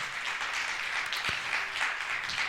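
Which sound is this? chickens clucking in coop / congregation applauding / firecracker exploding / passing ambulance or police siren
congregation applauding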